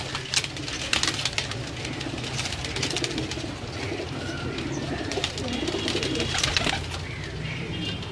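Salara Teddy pigeons coo steadily close by in a loft, soft repeated throaty calls layered over constant background noise, with no talking.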